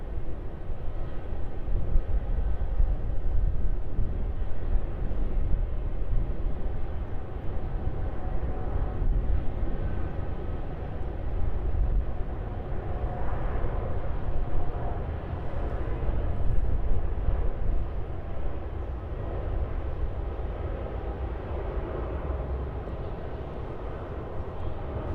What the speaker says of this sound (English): let's get this Air India 787 takeoff